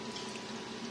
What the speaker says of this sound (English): You just kind of squirt it over your corals.